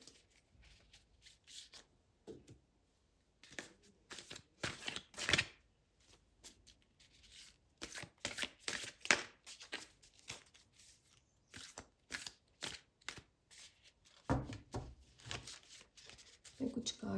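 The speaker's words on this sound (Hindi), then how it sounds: "तो करते हैं शफल इन कार्ड्स को" Tarot cards are shuffled by hand in irregular riffling and sliding bursts, close and fairly quiet, with someone speaking softly between them.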